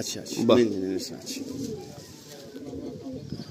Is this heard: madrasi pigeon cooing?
yes